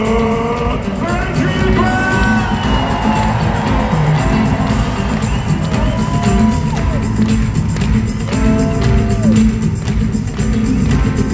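A packed arena crowd at a live pop concert roars, whoops and cheers continuously and loudly, with thumping and clapping buried in the dense wall of noise and singing tones rising over it.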